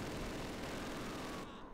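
Sustained dense gunfire from an MG42 machine gun in the WWII strategy game Close Combat Last Stand Arnhem, a continuous rattling barrage that cuts off abruptly near the end.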